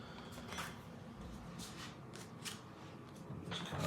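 A deck of cards for an Ardennes wargame being shuffled by hand, soft close riffling and rustling bursts in a quiet room, fairly faint with no talking.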